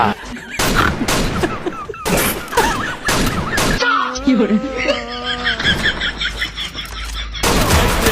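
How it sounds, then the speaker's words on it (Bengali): Rapid bursts of pistol gunfire crack out in several dense volleys, loud and close, with shouting voices between the shots. "ভিতর পিস্তলে কত গুলি আছে, চালা চালা গুলি"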